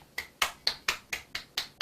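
Rhythmic clapping at the close of a high school youth worship service at Gupabal Church: about eight sharp, evenly spaced claps in a steady beat, fairly faint.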